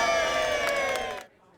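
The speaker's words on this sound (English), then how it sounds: "A crowd gathered in front of a well-known restaurant in downtown Torrance for a birthday celebration." A crowd outside a downtown Torrance restaurant cheers for its 25th birthday celebration, a loud sustained mass of shouting voices that cuts off abruptly after just over a second.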